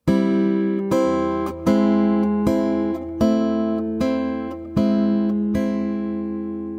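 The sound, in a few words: fingerstyle guitar playing song intro's piano part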